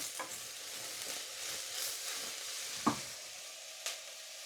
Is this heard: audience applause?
no